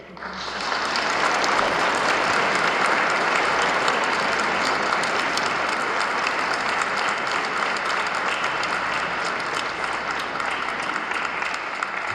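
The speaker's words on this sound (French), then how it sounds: "On peut les applaudir" A church congregation at Sunday Mass, with the bishop present, breaks into loud, sustained applause that swells quickly and holds steady for about twelve seconds.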